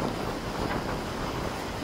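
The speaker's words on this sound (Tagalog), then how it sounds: "Malakas ng hangin." Strong gusts buffet the microphone at an outdoor park during a baseball game, a steady low rumbling roar with no clear voices.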